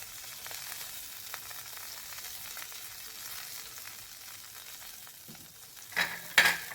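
Upma being stirred in a pan on the stove, a steady scraping and soft sizzling texture throughout with no talk, ending in a couple of louder clanks or scrapes near the close.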